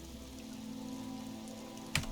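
Rain pours over a coastal bay in the video game Disco Elysium, a quiet, even wash of drops under a low ambient drone, with one brief sharp tap near the end.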